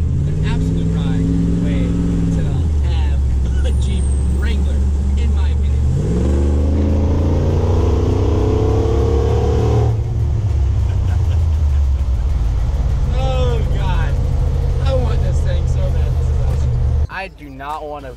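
A 500-horsepower custom Jeep Wrangler drives hard, its engine loud and continuous as it revs up, drops and climbs again through gear changes, ending in an abrupt cutoff.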